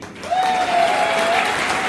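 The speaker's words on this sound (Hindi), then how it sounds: "जा रही है तो दिल से ताली बजनी चाहिए।" An audience at a stage event bursts into full, sustained applause that swells after a brief start and holds steady, with a thin whistle running through the middle.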